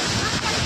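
Rushing waterfall and rain at Bhalukpong in Arunachal, a steady dense roar of falling water filling the whole short stretch, close and loud with no pauses.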